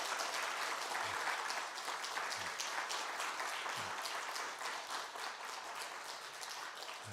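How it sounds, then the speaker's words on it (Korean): Congregation applauding during a Sunday church service, a dense, sustained round of clapping from many hands that fills the space evenly throughout, with no talk over it. "박수 한번 해주시면 감사하겠습니다."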